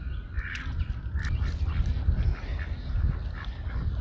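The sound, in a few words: ducks quacking by a homestead pond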